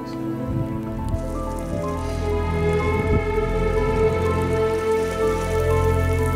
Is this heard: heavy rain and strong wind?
yes